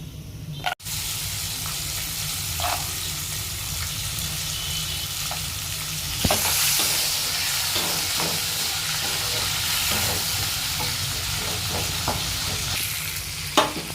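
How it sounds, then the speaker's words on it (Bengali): Soaked chickpeas frying with garam masala in a pan for mochar ghonto, a steady close sizzle with occasional stirring scrapes and a louder burst of hissing partway through. "ছোলাটাকে মা কিছুক্ষণ সামান্য ভেজে নেবে"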